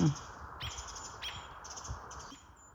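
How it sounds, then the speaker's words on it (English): A robin gives a few short, sharp chirps while pestering an owl outdoors, the calls spaced at intervals over a steady background hiss, fairly faint and with no voices. "I've never seen a robin pester an owl"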